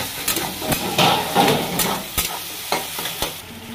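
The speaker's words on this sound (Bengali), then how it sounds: "গোটা জিরে গুঁড়োটা দিয়ে এবার ভালো করে নেড়ে নিচ্ছি" Roasted cumin powder is stirred into fried pumpkin in a frying pan for an ash gourd dish. Close, rhythmic scraping strokes of the spatula sound over a constant sizzle.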